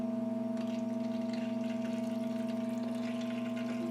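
Solvent pours in a steady waterfall over grinder parts coated in white lithium grease, a continuous low wash of liquid under the strong, even drone of a pump motor, with no one speaking.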